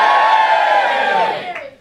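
A stand-up comedy crowd in Edinburgh cheers and whoops loudly on cue, many voices blending into a dense roar that holds steady and then tails off near the end.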